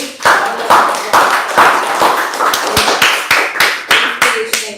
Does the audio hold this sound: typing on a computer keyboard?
no